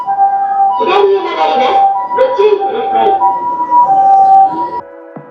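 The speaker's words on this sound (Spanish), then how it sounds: "Así suenan las ambulancias." An ambulance siren in Kyoto, Japan sounds a loud, steady alternating two-tone wail, continuing for several seconds before stopping abruptly near the end.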